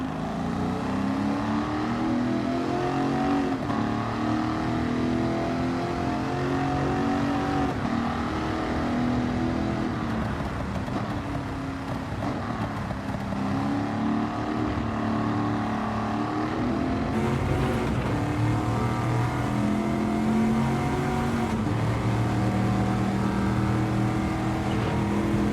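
A Chevy 302 V8 engine in Gran Turismo 7 revs continuously, its pitch rising and falling with throttle changes over a steady rumbling drone, loud and close throughout.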